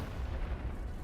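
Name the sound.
cannon firing in the video game Lost in Random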